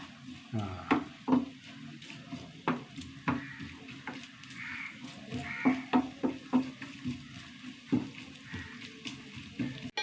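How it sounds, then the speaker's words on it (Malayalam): Coconut pieces roast in hot ghee in a pan, giving a soft, steady sizzle broken by repeated scraping and stirring clatters from a spoon against the pan. No voice is heard. "തേങ്ങാക്കൊത്ത് നെയ്യിലൊന്ന് വറുത്തെടുക്കാം"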